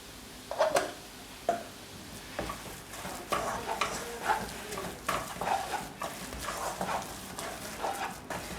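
Grated coconut being stirred into a kumbil appam batter, with a spoon scraping and knocking against the bowl in uneven, close strokes.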